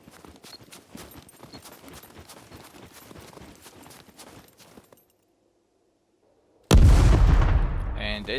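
A C4 charge blows up against a base wall in the video game SCUM. Light footsteps and clatter give way to near silence, then one sudden, very loud blast that booms and slowly fades.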